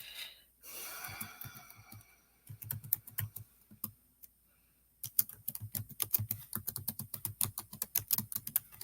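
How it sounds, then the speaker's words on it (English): Typing on a computer keyboard, with rapid close keystrokes in irregular runs and pauses, growing dense and steady toward the end, with some breathy noise early on. "I'm going to type in and see what Poppy's talking about."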